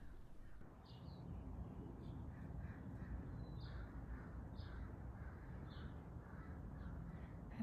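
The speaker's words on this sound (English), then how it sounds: "I hope you can hear some of these birds." Distant crows caw repeatedly, a harsh call every second or so, over steady low rumbling wind or traffic noise.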